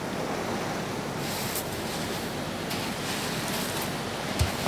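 Ocean waves on a beach at night, a continuous broad wash of surf and wind noise, steady and fairly loud throughout with no voices.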